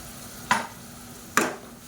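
Blended tomato paste goes into a hot pan of frying Ambur-style kuska masala, giving two brief, sharp sizzling bursts against a quiet background.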